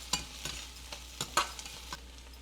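Curry leaves fry in a pan of oil for a spicy home-style prawn curry, a steady soft sizzle broken by about half a dozen sharp spoon scrapes and taps against the pan, close by, with no talking.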